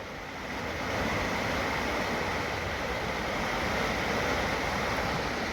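Floodwater from the River Don rushes under a bridge in Sheffield, a loud, steady broadband roar of churning water with some wind buffeting and no talk.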